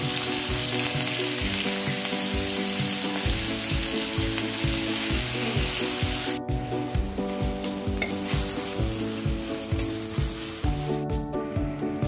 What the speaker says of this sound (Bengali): তারপর কুড়িয়ে রাখা পেঁয়াজটা তেলে দিয়ে দিলাম